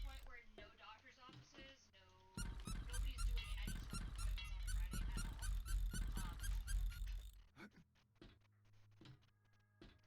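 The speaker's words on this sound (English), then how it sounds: "I got a squeaky hammer." A squeaky hammer in a survival video game gives a dense run of rapid squeaks and mechanical rattles for several seconds, loud and close, followed by a few scattered clicks.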